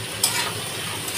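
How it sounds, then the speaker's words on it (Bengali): Fish frying in a wok with fish juices, a steady close sizzle with a brief louder burst near the start and faint utensil stirring underneath. "এখানে মাছের জল আর মাছ ভাজা হচ্ছে।"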